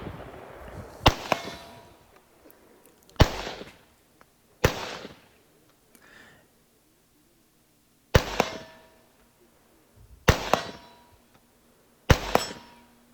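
Stgw90 rifle fired at steel targets during a shooting competition, six sharp loud reports at irregular intervals, each with a brief ringing tail and short echo, no talk in between.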